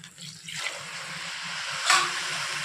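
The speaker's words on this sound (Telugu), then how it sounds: "రైస్లో వాటర్ పోసేసి" Water is poured into rice in a pressure cooker, a steady splashing gush with a brief louder splash near the end, close and moderately loud with no talking.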